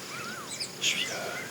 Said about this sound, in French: Avec le chant des oiseaux, c'est comme un petit cadeau le matin pour se réveiller tranquillement.